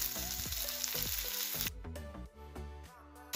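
Lentils frying in oil in a pan with grated ginger and curry leaves, a steady close sizzle with a few soft stirring scrapes, no talk.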